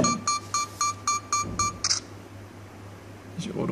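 A run of short, bright electronic beeps from a Sony Action Cam self-timer set to 2 seconds, at a steady, quickening pace, ending in a brief click as the shutter fires, then near silence.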